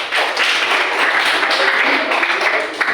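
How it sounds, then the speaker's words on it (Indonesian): Applause from a class of students in a classroom, dense continuous clapping at moderate volume that fades slightly at the end. "tepuk tangan untuk kita semua"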